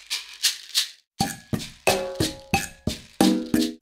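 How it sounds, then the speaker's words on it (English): Maracas shake in a simple rhythm, three soft swishes followed by a run of sharper, brighter shakes, up close and unaccompanied by talk. "let's record a simple maracas pattern here"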